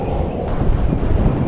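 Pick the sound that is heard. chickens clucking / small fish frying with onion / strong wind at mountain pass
strong wind at mountain pass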